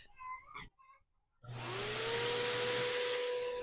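A pet blower switches on partway through and then roars steadily at high power, blasting loose fur out of a rabbit's coat, loud and close. A few brief softer sounds come before it starts.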